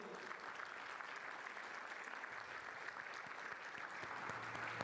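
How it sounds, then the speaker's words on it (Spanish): Steady, dense applause from a conference audience at a corporate plenary session, greeting a panel guest, a company general director; the clapping fills the room evenly at moderate distance and holds throughout without speech. "Un aplauso para Gabriel."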